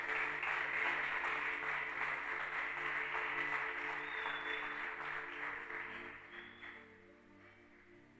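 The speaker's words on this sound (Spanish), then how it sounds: "Dele otro aplauso al que vive y al que reina." A church congregation at an evangelical holiness service applauds for several seconds, a steady wash of clapping that gradually thins and fades.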